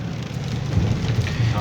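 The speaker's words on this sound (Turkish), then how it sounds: "Şükür ya yağmur geldi" Steady Black Sea coast rain patters and hisses across a surface, a continuous dense wash of sound with a low rumble underneath.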